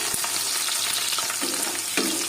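Onions sizzle in hot oil in a pan with cardamom for chicken curry, a dense, steady frying hiss with a few soft stirring scrapes.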